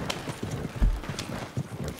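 Horse hooves clip-clop in the video game Red Dead Online, a steady trotting rhythm of repeated hoofbeats, close and clear, with no talk over it.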